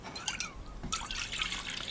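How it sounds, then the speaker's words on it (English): Tonic water poured from close by for gin and tonic popsicles, a light liquid trickle with a brief pause and then a brighter splashing fizz. "We're going to add our tonic water."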